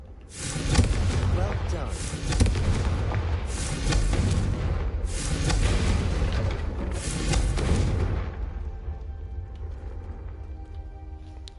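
In Hogwarts Legacy, the Confringo explosive fire spell sets off a sustained series of rumbling booms and fiery bursts for several seconds before fading, while a voice speaks briefly.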